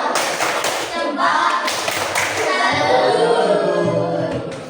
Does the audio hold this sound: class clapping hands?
yes